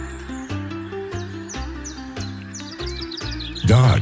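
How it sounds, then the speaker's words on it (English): Bright bird chirps and tweets repeat over a steady musical bed, with a louder burst of sound at the very end. "And winged birds in their own species."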